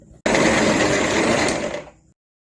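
Raw washed potato slices, unsalted, dropped into hot oil, setting off a loud, steady sizzle that starts abruptly, holds for about two seconds, then tapers and cuts off.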